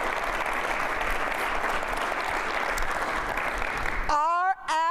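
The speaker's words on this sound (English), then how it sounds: "Can we give them a round of applause?" Audience at a school district address applauding honored students, a loud, dense round of clapping for about four seconds that gives way to a speaker's voice at the end.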